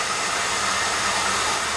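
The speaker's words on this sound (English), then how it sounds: "What I've got is a hair blow dryer on a stand because I normally work alone." Hair blow dryer mounted on a stand runs steadily, a loud, even, close whoosh of rushing air with no change across the short span.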